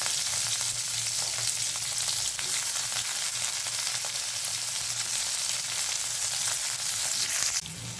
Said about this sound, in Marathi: तेल चांगलं गरम झाल्यावर त्याच्यात आपण हे कांदे शॅडो फ्राय करून घेऊयात.